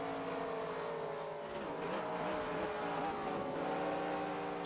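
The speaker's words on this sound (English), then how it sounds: "It was kind of like you were revving the throttle." A race car engine at Indianapolis revs loud and steady, its high droning pitch rising and falling slightly as the throttle is worked.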